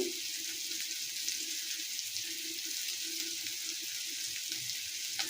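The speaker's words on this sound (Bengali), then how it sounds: "এর মধ্যে আমি নতুন আলু দিয়ে দিচ্ছি" New potatoes frying in a pan with meat: a faint, even hiss of sizzling oil runs steadily throughout at close range, with no talk over it.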